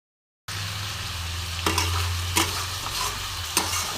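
Chicken frying on high flame with crushed pepper and onion, a close, steady sizzle starting abruptly after a moment of silence, with a few distinct scrapes of stirring against the pan.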